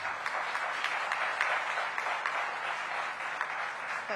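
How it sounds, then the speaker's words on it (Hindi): Audience at a literature festival in Ghazipur clapping steadily, a dense, sustained round of applause from a crowd that carries through the whole stretch with no talk over it. "गाजीपुर, आपको अगला एडिशन चाहिए तो ताली थोड़ी बजानी पड़ेगी।"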